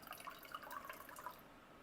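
Water pours into a container for homemade mineral water, a soft trickling and dripping with small bright splashes that fade toward the end. The sound is faint and close, with no speech.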